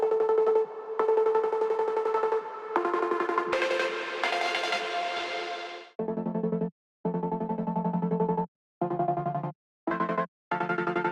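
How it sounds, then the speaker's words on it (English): Bright synth leads in a melodic drum and bass track sustain with an automated reverb wash that swells and tails off, then drier, choppy lead stabs cut in and out rhythmically. "On the leads I added reverb automation."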